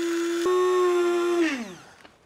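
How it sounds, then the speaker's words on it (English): A small electric grinder with its lid on runs at a steady high whine while grinding rice into a fine powder, then spins down and falls quiet within about two seconds. "Now we'll just get the lid on it, just like this, and grind it up."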